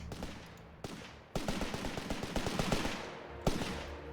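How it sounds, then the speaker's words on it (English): Carcano rifle gunfire in the World War II strategy game Company of Heroes 3, Italian Bersaglieri infantry firing: rapid, overlapping cracks and bursts through a dense battle din, with a loud sharp shot standing out near the end. "A lot of Carcano fire there."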